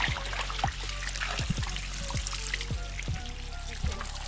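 Water pouring and trickling while native chicken is washed outdoors, with irregular drips, splashes and gurgles over a low steady hum, fairly close and moderately quiet.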